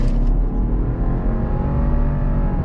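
Low engine drone from inside a 2021-2022 Subaru Outback Touring XT with a CVT during a 0 to 60 run, a steady, fairly loud rising hum heard from the cabin at night.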